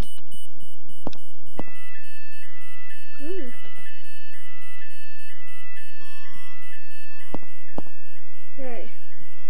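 A fire alarm being tested sounds as a loud continuous tonal alarm with steady electronic tones, while a voice speaks over it and sharp bursts cut in.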